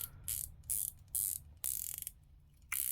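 Aluminium-insert watch bezel with a 120-click unidirectional ratchet turned by hand, crisp rapid clicking in short bursts separated by brief pauses, very close and quiet.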